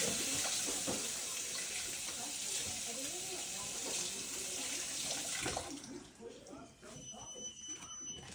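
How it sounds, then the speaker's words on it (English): Tap water running over hands at a sink, a steady splashing hiss that cuts off near the end, followed by a faint electronic beep. "Let me wash my hands."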